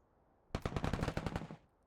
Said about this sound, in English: Let's get some machine gun fire on these guys.